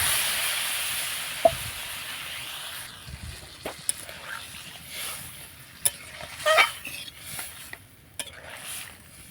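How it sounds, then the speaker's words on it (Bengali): Water poured into a hot pan of sautéed egg and fig curry gives a broad hissing sizzle that fades after a few seconds, followed by scattered clinks of a utensil against the pan. "এবার জল ঢেলে দেবো।"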